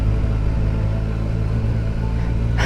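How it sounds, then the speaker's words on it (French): Kawasaki Versys 1000 SE motorcycle riding on a quick tour through a Belgian ghost village, a steady low engine rumble with wind noise, constant and close throughout. "Je fais un petit tour de reconnaissance vite fait en moto."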